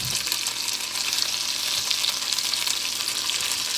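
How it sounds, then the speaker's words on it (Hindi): Chicken pieces frying in a pan, cooked grill-style for a smoky grilled chicken dish, give a steady, dense sizzle that holds evenly from start to finish with no voices over it. "आप इसे फ्राई कर लें।"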